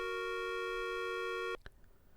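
In the video game Maniac Mansion, a telephone busy signal plays: a loud, steady electronic tone lasting about a second and a half, then cutting off abruptly, followed by a click and quiet room noise.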